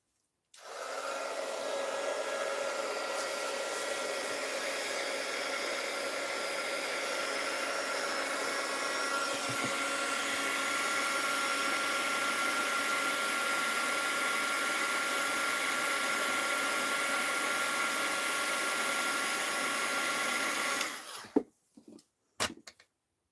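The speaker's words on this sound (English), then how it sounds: "going to try hitting that with the heat gun, see if I can melt it off" A heat gun blows continuously for about twenty seconds to melt material off an art journal, a loud, steady, breathy roar that cuts off abruptly, followed by a few quiet clicks and handling sounds.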